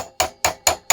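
A hammer knocking a bolt out of a WEN portable bandsaw, four sharp metallic strikes in a steady rhythm, close and loud with nothing else heard.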